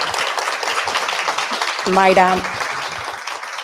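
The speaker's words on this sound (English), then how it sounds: "Ladies, a big round of applause for Maya here." An audience at a live Latina wellness event gives a dense round of applause for a woman named Maya, clapping steadily from start to finish while a voice speaks briefly partway through.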